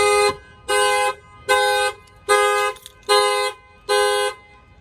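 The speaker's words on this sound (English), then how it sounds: "I'm going to go ahead and bang on the window and then that will fire off the alarm." A 2019 Toyota 4Runner's factory car alarm, set off by banging on a window, blares horn honks in a steady on-off rhythm: six loud, even toots separated by short silences.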